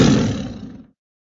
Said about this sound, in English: A lion makes a roar sound.